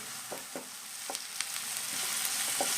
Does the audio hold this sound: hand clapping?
no